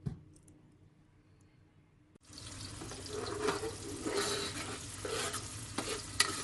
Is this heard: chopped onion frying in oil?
yes